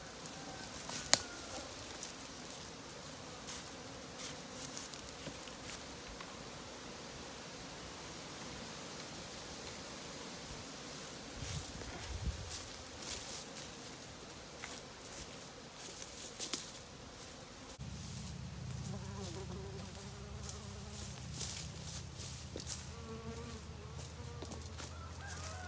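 Bees swarm around a hive as it is carried to a new spot, a steady low hum of buzzing under outdoor background noise, with a louder, denser drone in the last several seconds.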